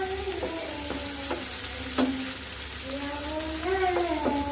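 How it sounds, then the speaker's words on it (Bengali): Ginger, garlic and onion paste masala fries in oil without water, a steady hissing sizzle with a few sharp stirring taps, while a faint voice hums or speaks underneath. "এই মশলাটাকে একদম ভাজা ভাজা করব। এখানে কোনো পানি দেব না।"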